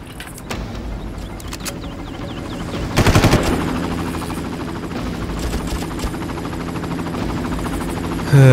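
Gunfire in the Far Cry video game, bursts of rapid automatic shots over a constant engine-like drone, with a loud cluster near the middle and another at the very end.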